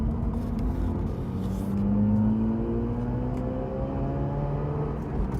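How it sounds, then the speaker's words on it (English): A Mazda RX-8 rotary engine revving while driving onto a highway, a steady tone climbing in pitch through the gears with a rising then settling whir, heard from inside the car with no talk. "So I revved it up there a bit"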